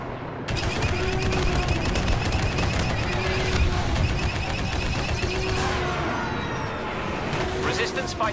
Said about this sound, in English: Resistance fighters are firing on our forces.